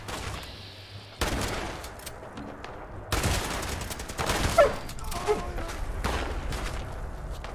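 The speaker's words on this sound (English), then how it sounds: "God, we're getting shot at" Bursts of gunfire in the video game Fallout 76 during a crowded fight, with abrupt loud onsets and sustained rattling volleys, overlapped by other game noise.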